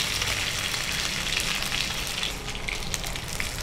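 Urad dal and chana dal sizzle and crackle steadily in hot oil with curry leaves, a dense continuous frying hiss close by with no talk.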